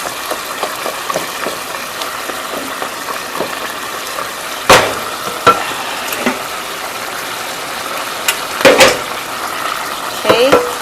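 Hot water is poured into a sizzling one-pot pasta cooked risotto style, making a steady, close rushing splash with a few sharp clanks of pot or utensil along the way.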